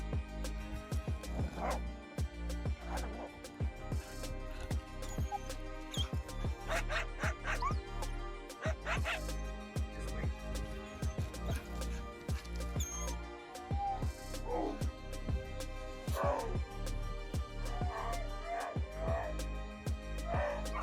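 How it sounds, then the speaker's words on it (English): Two pet dogs fight off attacking coyotes outdoors, giving a busy stretch of yips, barks, whimpers and short squeals, scuffling noises and a few faint voices in the background. "Coyotes attacked two pet dogs"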